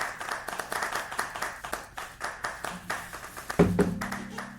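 An audience at a live concert claps in quick, fairly steady rhythmic bursts at a moderate level, with a louder thump near the end.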